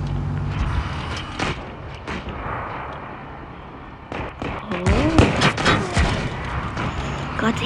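Tank cannon fire in the World of Tanks video game, a few heavy booming shots and rumbling impacts that swell in the latter half over a steady engine drone, with no talk.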